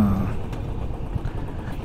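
Steady, loud wind roar buffets a rider wearing a new helmet on a motorcycle ride from Ghaziabad to Chamba, Uttarakhand, a dense low rumble with engine drone mixed in and no talking.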